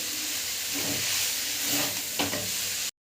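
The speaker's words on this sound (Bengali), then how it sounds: "এবার চাউমিনগুলো এভাবে ছড়িয়ে ছড়িয়ে দিয়ে আমি নাড়াচাড়া করে নেব" Chow mein noodles stir-fried in a hot pan, a dense steamy sizzle with a few soft scraping stirs of the spatula, close and constant until it cuts off abruptly.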